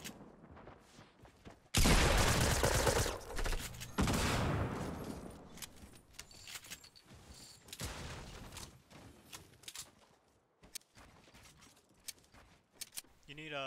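A loud, sustained burst of video-game gunfire erupts, then fades into scattered shots and quieter action, with people talking over it.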